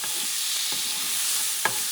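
Chopped garlic frying in oil in a paella pan for an ostrich paella, a steady close sizzle broken by a few soft scrapes of stirring.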